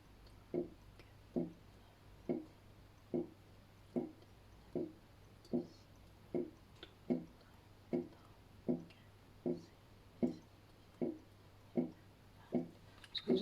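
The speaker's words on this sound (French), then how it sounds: "Ce que vous entendez, c'est mon évier, ne vous inquiétez pas. La vaisselle qui tourne, ça fait quelques bruits." A dishwasher runs next to a kitchen sink, giving a regular, evenly spaced series of soft thumping pulses, about one a second, faint and steady over a low background hum.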